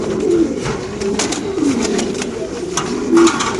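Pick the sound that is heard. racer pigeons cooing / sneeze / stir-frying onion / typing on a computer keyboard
racer pigeons cooing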